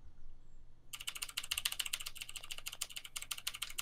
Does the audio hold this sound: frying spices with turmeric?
no